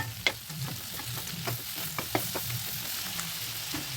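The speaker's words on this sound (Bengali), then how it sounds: "মাছটার উভয় পিঠ যেন সুন্দরভাবে ভাজা হয় সেই দিকটা একটু খেয়াল রাখতে হবে" Giant river prawn fries in a pan with a soft, steady sizzle and intermittent clicks and scrapes as it is stirred and turned, quiet and close with no talking.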